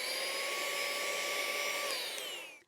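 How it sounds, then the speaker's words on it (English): A small handheld rechargeable vacuum blower, used to clean a sewing machine, whines steadily at a high pitch, close by, then winds down at the end. "This is a handheld, rechargeable, combo vacuum blower"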